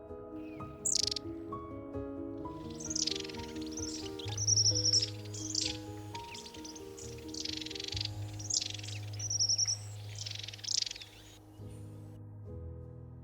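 Tits sing in a garden, repeated high chirps and trills close by, laid over sustained soft musical tones throughout.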